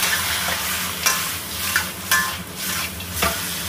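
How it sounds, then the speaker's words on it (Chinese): Pork ribs and pork intestines are stir-fried hard in a pan, giving a steady close sizzle broken by scraping spatula strokes about once a second, with no talking. "给它使劲的煸炒一下啊，最好给它煸煸透，就把排骨放进去 一起翻炒一下"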